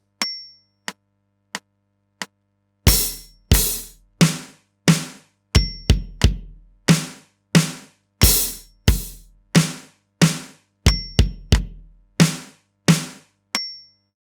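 A drum kit plays a groove with an added third bass note, following a click track. Four sparse clicks count in first, then bass and snare hits fall in a steady repeating pattern, clean and close.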